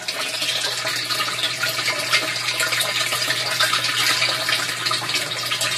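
Water drains through a barrel bell siphon, a continuous rushing, gurgling flow with sputtering as the siphon begins to cavitate and suck air, steady and close without talking.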